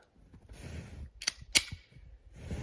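A .380 +P Underwood round is fired into a column of ballistic gel at a shooting range. A faint click is followed by one sharp, loud gunshot crack in an otherwise quiet outdoor setting.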